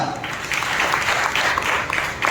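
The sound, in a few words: congregation clapping hands in church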